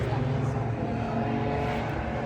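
Race cars at Donington Park in a classic touring car race, engines droning steadily throughout with a continuous broad roar, close and loud, while voices talk over it.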